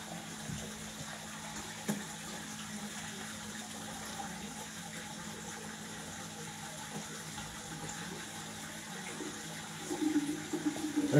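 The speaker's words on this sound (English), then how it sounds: "And we siphon out the dirty water." Dirty water siphoned out of a large seven-foot home fish tank through a hose, a steady low gurgling trickle that runs throughout and swells louder in the last second or so.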